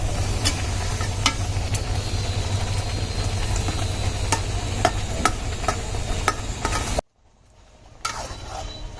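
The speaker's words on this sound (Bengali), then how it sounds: "আমগুলো তো পাকাই ছিল, দেখুন কি সুন্দর সিদ্ধ হয়ে যাচ্ছে" Ripe mangoes simmer in a pan, giving a steady bubbling and hiss with scattered clicks, broken by a sudden near-silent pause before the sound picks up again.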